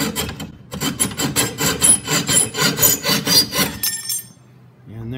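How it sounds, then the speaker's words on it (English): A hand file scrapes the sharp metal edges of a cut tab during a Polaris Slingshot hitch installation, with about a dozen brisk, close rasping strokes before it stops, followed by a short spoken word at the end. "I'm gonna take a file and I'm just gonna file those down"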